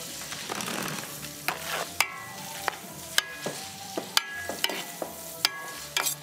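Onions fry in hot oil in a home kitchen while a spoon stirs them, giving a steady soft sizzle broken by regular clinks and scrapes against the pan, fairly quiet and close.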